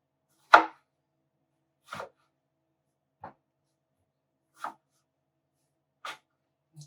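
Knife strokes peeling the skin off an eggplant, six short separate scraping cuts spaced about a second apart, close and crisp against silence.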